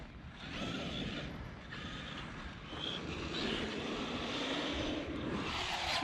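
Electric Traxxas X-Maxx RC monster truck running on a BMX track, its motor giving a steady broadband whine and rumble throughout, with rising bursts as it is throttled hard, fairly loud and continuous with no talking.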